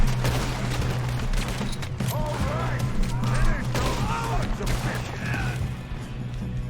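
Shootout gunfire in Red Dead Redemption 2, a dense, steady volley of shots with a low rumble underneath, mixed with voices talking throughout.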